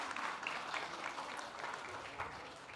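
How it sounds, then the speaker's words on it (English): An audience claps in steady, dense applause at a skincare event, faint and continuous for a few seconds, with no voices over it. "Can we have a huge round of applause for her?"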